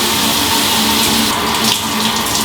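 Water running steadily from a tap, a continuous bright splashing rush while shampoo is rinsed out of hair, close and unbroken, with no voices.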